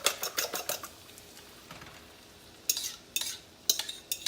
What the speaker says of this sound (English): Got some onions sauteing.